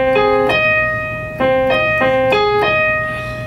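Solo piano plays a passage from a song, with several sustained chords struck in turn and each ringing out clearly and close.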